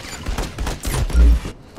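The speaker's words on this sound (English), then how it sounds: "there seems to be a lot of gunfire" A short, loud burst of rapid gunfire in the video game MC5 crackles and booms, with heavy low thumps toward the end.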